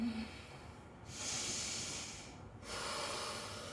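Deep, slow breathing during a supine bow yoga pose: two long, airy inhale-exhale cycles, close and fairly soft, with no talking.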